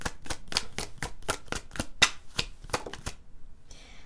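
Tarot cards being shuffled by hand, a series of sharp riffling snaps in an irregular rhythm, close and crisp, trailing off into a brief soft rustle at the end.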